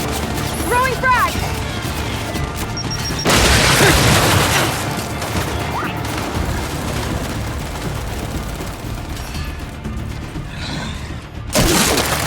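Frag grenade explosions in Gears of War: a heavy, booming blast early on and another near the end, over continuous combat clatter with shouted voices.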